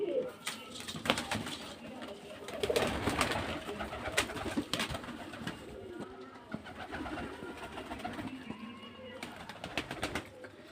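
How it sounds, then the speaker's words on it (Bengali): A busy loft of pigeons cooing and fluttering, with overlapping soft coos, wing flaps and scattered clatter throughout, fairly close and continuous. "পায়রা পায়রা দেখুন বিস্কুট কালারেরও পায়রা আছে"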